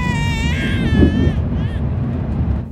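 A baby cries in a train carriage, with a rising and falling wail that fades after a couple of seconds over the steady rumble of the train.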